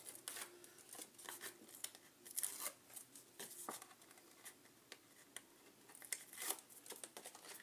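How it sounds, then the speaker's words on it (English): Terrific tape is peeled off a paper card, making faint, close crinkling and sticky ripping sounds in short, irregular bursts, with no talking. "I'm going to peel off my Terrific tape."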